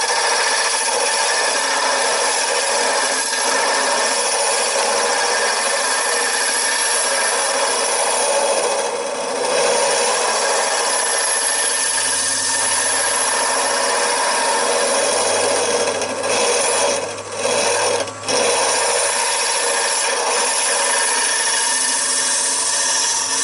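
A power tool shapes the end of a wooden knob, giving a continuous loud, hissing grind that runs steadily for over twenty seconds, with a few brief dips and a low motor tone partway through.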